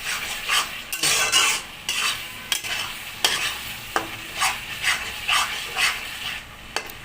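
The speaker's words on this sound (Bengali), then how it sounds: "আর একটু কষাতে হবে এবারে সামান্য চিনি দিয়ে দেওয়া হয়েছে" Prawn dopiaza masala with a little sugar being stir-fried in a pan, a close, loud sizzle broken by regular metal spatula scrapes and clanks against the pan in a steady stirring rhythm.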